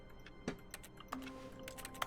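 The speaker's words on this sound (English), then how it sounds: "when I click my desk do I get like keyboard clicking sounds?" Faint, quick keyboard clicking in the Stanley Parable video game, a scatter of light irregular key taps and ticks at a low level with no talk.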